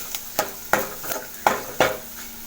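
Pepper and cumin powder sautéing in a pan for Tamil pepper rasam, heard as a soft sizzle broken by five or six evenly spaced scraping stirs of a spoon against the pan.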